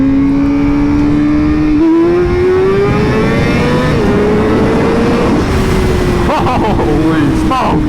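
Honda Fireblade sport motorcycle engine revving and accelerating at close range, a loud steady rising whine climbing through gear shifts, with wind roar and a person talking over it.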